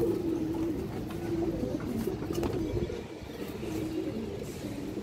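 Young pigeons coo steadily in a low, throaty murmur, overlapping continuously at close range against a soft background hiss.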